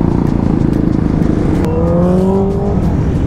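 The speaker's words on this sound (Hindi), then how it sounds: "सुपर बाइक की आवाज़ सुन के ना यार ऐसा मोटिवेशन मिलता है" Superbikes on a group breakfast ride in Pune rev loudly and close by, a throbbing engine note that climbs in rising pitch sweeps in the second half as the bikes accelerate.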